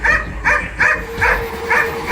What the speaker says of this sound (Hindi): सत्यम के कमरे से जोर जोर से किसी के भौंकने की आवाज आई